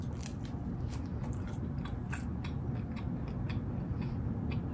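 Someone biting and chewing pizza close to the mic, a run of crisp crunchy bites and wet chews repeating steadily with no talk.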